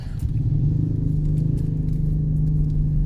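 A tricycle passes on a road in the Philippines, its low engine rumble and road noise holding steady and fairly close for about three seconds, with no talking over it.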